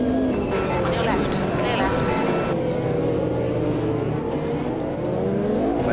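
A C Class race car engine in Automobilista 2 revs high and holds near the red line, a steady loud whine with rising and falling pitch sweeps as gears change, under a speaking voice.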